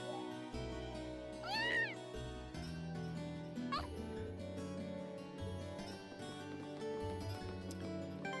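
A cartoonish cat from the game Trails of Cold Steel gives two rising meows, one long and one short, over busy game music and ambience.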